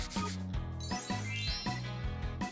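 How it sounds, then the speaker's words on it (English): A cut glass bottle is rubbed against an abrasive in short repeated strokes, a steady scraping rhythm with faint glassy ringing, close and alone. "Let's choose a bottle. Cut and sand it."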